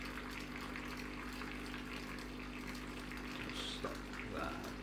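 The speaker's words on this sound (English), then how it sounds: "however much hot water you want with your" Hot water running from a Gaggia Brera espresso machine into a shot of espresso, a steady low pump hum with a continuous splashing pour, fairly quiet and close.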